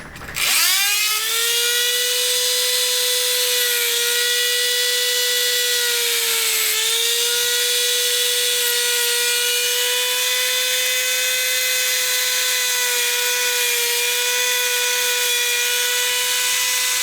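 A power sander grinds steadily over an epoxy coating on a DIY flat-bottom steering wheel, spinning up sharply, then holding a loud, continuous high whine throughout, with a brief dip midway and no talk.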